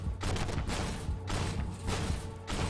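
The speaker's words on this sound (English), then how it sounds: "when you fire the 48 rounds, it just reloads instantly" Begleit Panzer 57 autocannon in the game Armored Warfare firing rounds in loud, rapid bursts, dense thudding shots broken by brief gaps, close and dominant with no talk.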